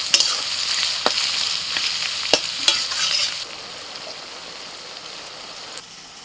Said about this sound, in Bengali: তেল গরম হয়ে গেছে, বেরেস্তার জন্য পেঁয়াজ ছেড়ে দিলাম